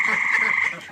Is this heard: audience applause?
no